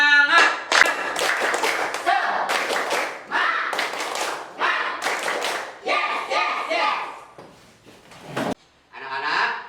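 Classroom students stand and perform a tepuk semangat chant, bursts of rhythmic group clapping mixed with chanted voices in short phrases separated by brief pauses.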